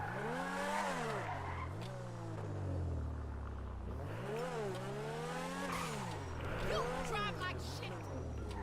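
A prototype car in the video game GTA Online starts up strangely, its engine revving up and down in repeated swooping surges with some tire squeal, steady and fairly loud, with someone talking over it.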